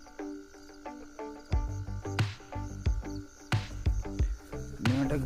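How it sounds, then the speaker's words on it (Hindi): A frog croaks in a lentil field at night, giving repeated, close, resonant calls in uneven bursts that overlap and layer over a quiet background, with no speech. "मेंढक बोल रहा है भाई, मेंढक खेत में।"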